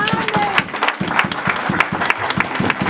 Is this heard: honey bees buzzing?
no